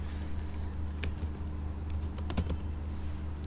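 Steady typing on a computer keyboard while entering text into a table in MS Word, with an irregular patter of close key clicks and a few sharper taps over a low constant hum.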